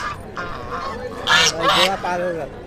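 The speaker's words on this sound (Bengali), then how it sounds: "রাজহাঁস" Geese at a busy market give a few loud, nasal honks in quick succession, close by, over a background of people talking and crowd murmur.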